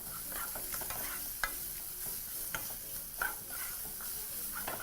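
Onions sweat and sizzle in a pan as cumin powder goes in, a soft steady fry broken by a few sharp scrapes and taps of a spoon stirring, close and quiet with no talking.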